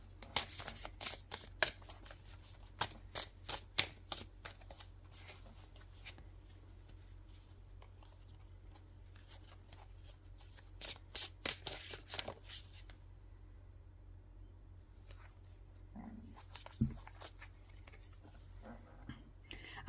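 Tarot cards being shuffled by hand, soft close riffling and slapping bursts in quick clusters separated by quiet pauses, with faint speech in the background.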